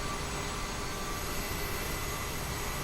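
CRJ 550/700 airliner jet engines in Microsoft Flight Simulator, a steady droning roar with a thin metallic whine running through it, even and unbroken, moderately loud and alone without talk.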